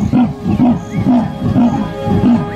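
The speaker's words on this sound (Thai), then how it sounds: "เสียงร้องของมันไม่ได้ดังเหมือนเสียงคำรามของสิงโตแต่เสียงกรนของมันนั้นดังไปไกลเกือบ3กิโลเมตร" A wild cat gives a loud, rasping growl in a wide wild forest, a rhythmic series of throaty grunts repeating about twice a second, close and alone.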